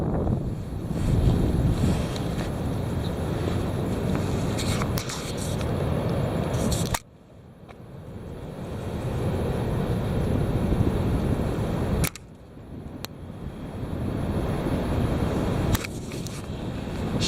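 Heavy wind blows outdoors, roaring and buffeting against the microphone in loud rumbling gusts, with two abrupt drops into near quiet before the blustering rushes back.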